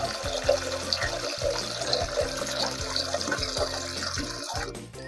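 Water runs steadily from a tap into a sink for washing broccoli, a continuous splashing rush at close range, cutting off near the end.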